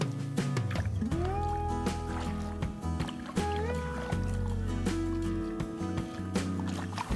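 A kayak paddles between rocky islands on a large lake near Sudbury, with soft, repeated paddle splashes and dribbles of water set under steady background music.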